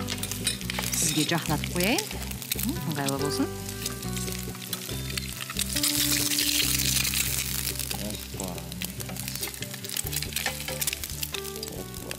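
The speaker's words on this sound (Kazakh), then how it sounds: "Кішкене шала етіп қуырамыз жұмыртқаны" Eggs fry lightly in a pan, giving a steady soft sizzle that continues throughout while someone talks over it.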